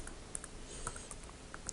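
Someone types a network configuration command on a computer keyboard, producing a quick scatter of faint, separate key clicks at an uneven rhythm over a low room hiss.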